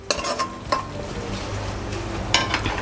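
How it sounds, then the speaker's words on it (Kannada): Masala spices for tawa pulao are roasted and stirred in a pan: a close, steady sizzle runs throughout, broken by a few sharp scrapes and clinks of the spoon against the metal. "ಈ ಮಸಾಲೆಗಳನ್ನೆಲ್ಲನೂ ಒಂಚೂರು ಚೆನ್ನಾಗಿ ಹುರ್ಕೊಳ್ಳೋಣ."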